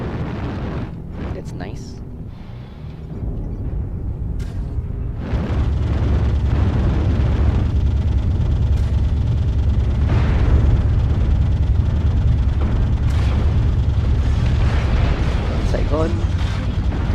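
Artillery strike explosions in the Viper Redux war game rumble as a heavy, sustained low roar through most of the clip, with a brief voice speaking over the booms.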